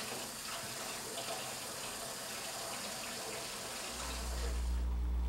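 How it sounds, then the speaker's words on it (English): A kitchen tap runs steadily while a sea eel is rinsed under it, giving a constant close hiss of flowing water. A low hum joins in during the last second or so. "Wash under running water, then dry, removing any excess water with a dry towel."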